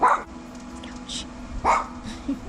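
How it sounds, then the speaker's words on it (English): A pet dog barks outdoors in a backyard by a pool, chasing an automatic pool cleaner: two or three sharp, near barks spaced across a couple of seconds, with a brief spoken exclamation at the start. "And I'm sorry that my dog is barking."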